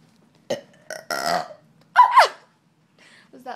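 Several burps during a burping contest, short separate belches of varying length and pitch with quiet gaps between them, heard close up.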